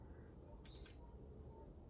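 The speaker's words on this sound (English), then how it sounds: "It's so peaceful, just the sounds of the birds." Birds chirp and call in a garden at 6 a.m., faint high tweets and a sustained whistle-like song over low background noise, no voices.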